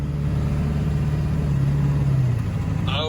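A Mustang skid loader engine runs at a loud, steady drone, its pitch sagging slightly as the transmission shifts, with a brief higher squeal near the end.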